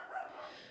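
A dog barks or yips once or twice indoors, a short, thin call set against a low room murmur.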